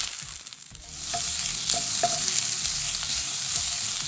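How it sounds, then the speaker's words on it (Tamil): Grated coconut and curry leaves fry in a pan for potato curry, a steady close sizzle with soft scraping stirs now and then, growing a little louder partway through. "தேங்காய் நல்லா பொன்னிறம் ஆகி வரணும். அதுவரை நான் நல்லா வறுத்து கொடுக்க போகிறேன்."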